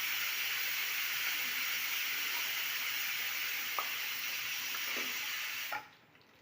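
Asafoetida dropped into hot oil makes a loud, steady hissing sizzle with a few faint crackles, running continuously close up before cutting off abruptly near the end; no talking.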